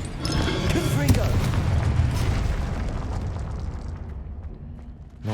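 Confringo fiery blast spell in the Hogwarts Legacy video game during combat: a heavy, booming explosion that erupts loudly, rumbles and crackles for several seconds, then fades into a quieter tail.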